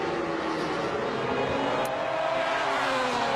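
MotoGP racing motorcycles at Mugello, with Valentino Rossi's bike among them, scream loudly and continuously at full throttle as they accelerate on a drying track.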